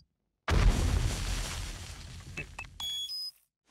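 A sudden loud explosion in the survival video game 7 Days to Die, a heavy boom with a rumbling tail that fades over a few seconds, followed by brief tonal game chimes.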